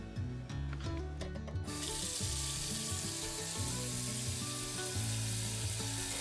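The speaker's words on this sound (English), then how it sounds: "I filled up my large pot with some water" Tap water pours into a large pot, a steady, loud rushing that fills the whole stretch after a brief clatter of kitchen noise at the start, with no voices.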